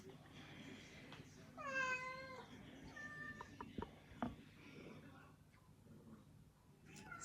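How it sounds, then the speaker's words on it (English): A pet cat gives one clear, rising meow at close range indoors beside a dining room table, followed by faint clicks and someone talking quietly. "She's not allowed on the dining room table, but she's a cat, so she does what she wants."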